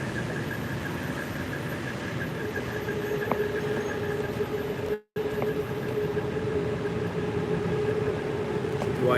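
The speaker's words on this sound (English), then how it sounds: "Do I hear the SkyTrain?" A Bangkok SkyTrain rolls by on its elevated line amid city street noise, a steady mechanical rumble with a sustained whine, moderately close and continuous, briefly cut by a gap midway.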